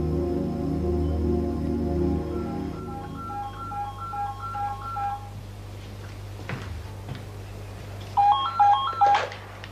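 A telephone sounds with a series of electronic ringing tones, repeated beeps that stop and then return in a quick burst, fairly clear against a quiet indoor background.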